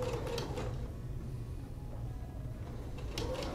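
A sewing machine works slowly around a curved shirt collar, running a low mechanical whir in short stitch bursts with faint clicks at the start and end, quiet and steady with no talking.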